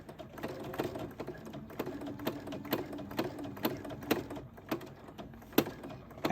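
A sewing machine stitching free motion embroidery through thick layered scrap fabric, running in uneven bursts of rapid needle thumps with short pauses, close and moderately loud, no voices.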